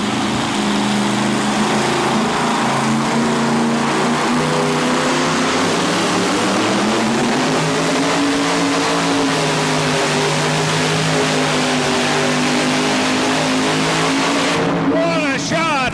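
A heavily weighted tractor-pulling truck roars down the pull track at a 1987 Charlotte event, its loud sustained engine drone climbing in pitch as it runs, with an announcer talking over it throughout.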